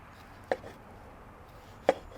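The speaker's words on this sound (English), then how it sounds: "when you're cubing them, you first just want to slice them like this" A knife slicing through tomatoes on a cutting board gives two sharp, close cuts about a second and a half apart in an otherwise quiet kitchen.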